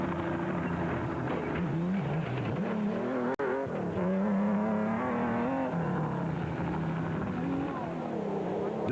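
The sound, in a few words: Nissan race vehicles in the Mmabatho 500 desert race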